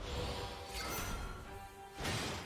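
A shattering sound effect in the card game Shadowverse: a dense, noisy crash that swells twice over a couple of seconds, loud and alone with no talking.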